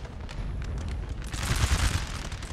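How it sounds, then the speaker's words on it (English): Massed musket volleys crackle in a Napoleonic-era battle in the strategy game Napoleon: Total War, a dense, rolling burst of gunfire that swells louder midway with deep low rumbles underneath. "So gunfire has chased them away."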